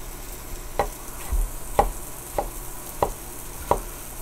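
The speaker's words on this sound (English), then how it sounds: "I'm going to use a fresh tomato instead of using canned tomatoes" A knife roughly chops a fresh tomato on a board, five sharp evenly spaced cuts over a low background hum, with no talking.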